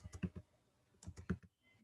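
Computer keyboard typing as values are entered into a form, two short bursts of quick, light keystrokes separated by a pause, close and fairly quiet with no voices.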